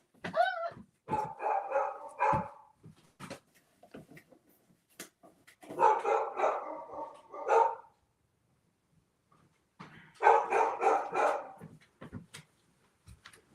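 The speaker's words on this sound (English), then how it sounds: "the dogs are at it" Dogs bark in three separate bursts, loud and close, with short gaps and quieter yips and whimpers between them.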